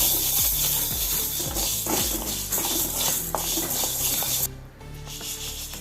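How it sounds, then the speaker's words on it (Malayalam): Green gram roasting in a pan for healthy laddu: repeated close rubbing, rattling stir strokes that scrape along the pan, continuing steadily before dropping away abruptly near the end. "ഇനി ചെറുപയർ വറുക്കാം"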